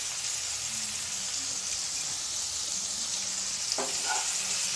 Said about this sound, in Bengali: এতিয়া এইখিনি মই হাই ফ্লেমত ফ্রাই কৰিম আলু ফুলকবিখিনি ফ্রাই হৈ গৈছে